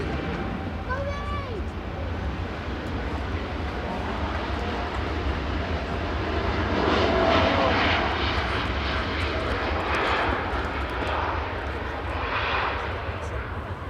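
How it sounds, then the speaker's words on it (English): TUI Fly Nordic airliner departing Manchester Airport for Cancun, a steady broad jet roar that swells to a peak midway and then eases, with brief tonal whistles early on and faint talk beneath. "Departing now is the TUI Fly Nordic operating for TUI UK, heading out to Cancun"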